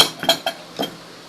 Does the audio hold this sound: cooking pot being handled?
yes